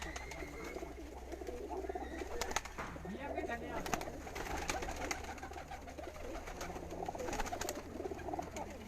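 Racing pigeon number 72 coos among other birds at a Punjab pigeon-flying competition, soft rolling calls repeating through the clip over a low hum, with people talking in the background.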